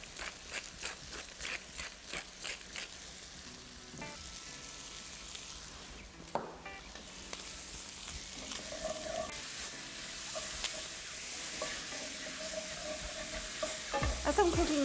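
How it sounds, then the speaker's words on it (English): Chicken frying in butter and oil sizzles steadily in a pan, with repeated close scrapes and taps of a utensil working the bottom, the sizzle swelling louder toward the end, no talking. "I'm just scraping up all the brown bits from the bottom of the pan"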